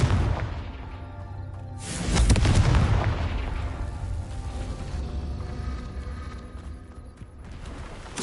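The Confringo blasting spell in Hogwarts Legacy goes off as one loud, close, booming explosion about two seconds in, followed by a rumbling decay over a lingering magical hum.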